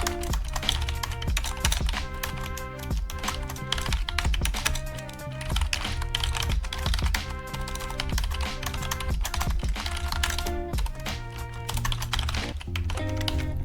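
Rapid, continuous clacking of a computer keyboard as code is typed, close and fairly loud, with brief pauses between runs of keystrokes.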